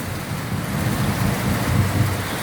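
Heavy rain pours steadily at night during a typhoon, a loud dense wash of noise with a low rumble underneath that may be distant thunder, no voices.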